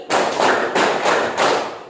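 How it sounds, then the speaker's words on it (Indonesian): A school class claps together in unison, several sharp collective claps in a steady rhythm, loud and close with no talking. "Tepuk 5 kali."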